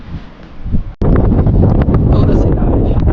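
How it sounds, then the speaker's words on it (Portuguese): Strong wind on the hilltop walls of the Castle of the Moors in Sintra, Portugal, roars and buffets the microphone loudly and almost continuously, with a brief dip before the blast surges back. "Ó o vento que faz aqui, é muito alto, gente."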